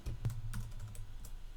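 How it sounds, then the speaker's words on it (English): Light keystrokes on a computer keyboard as a short command is typed, a few soft quick taps, faint and close against quiet background hiss. "we do that by simply typing the node command"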